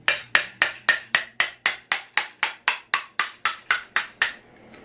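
Hammer blows during sizing of a pack for a Thor build: about fifteen loud, evenly spaced strikes roughly every quarter second, each sharp with a quick ringing decay, alone with no talk.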